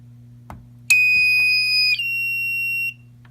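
A fire alarm system under test sounds a loud, steady electronic tone for about two seconds, then drops to a slightly lower continuous tone for another second before cutting off. A soft click comes before it, and a constant low hum runs underneath.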